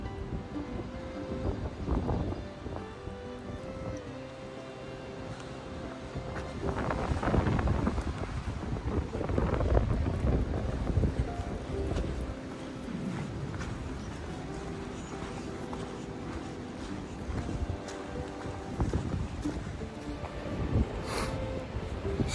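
Strong wind buffets the microphone in continuous gusts on the top of Big Butt Mountain, swelling and easing with a roaring, blustery texture outdoors.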